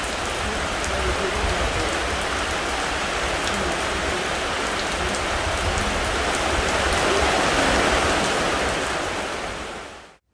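Steady heavy rain during the rainy season in Laos, a dense, even hiss of drops on surfaces that holds at full strength for about ten seconds before cutting off abruptly; no talking.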